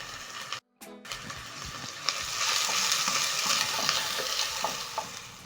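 Onions, garlic and ginger fry with cumin seeds for a chicken stew, a loud continuous sizzle under scraping stirs, following a brief silent gap at the start.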